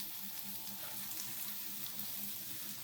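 Chopped onions fry in a pan for Kerala-style squid thoran, giving a steady, quiet hiss and sizzle with faint stirring.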